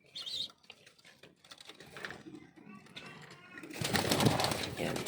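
Pigeons and young squabs in a loft coo softly in short bursts, with wing flutters and handling noises, and someone speaks nearby between the calls.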